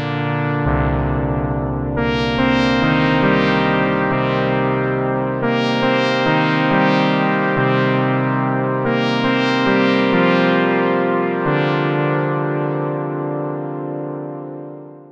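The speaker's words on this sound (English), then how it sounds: "turn on the FX delay module to drench our retro synth sound in tape style echoes" Retro analog-style synth patch in the u-he Bazille soft synth, sustained chords and bass notes drenched in tape-style echo delay, repeats trailing off behind each phrase, loud and continuous with no voices.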